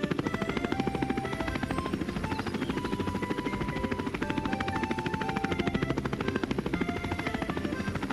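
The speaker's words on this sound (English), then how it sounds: "Look, the quadcopter is going up." A cartoon quadcopter drone takes off with a loud, steady, rapidly pulsing rotor buzz that stays level throughout, with no talking.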